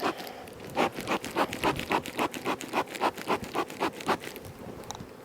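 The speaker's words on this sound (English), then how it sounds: "It's starting to rain" Raindrops patter in a quick, uneven series of soft taps outdoors at a beehive, fairly close and steady, with no talking.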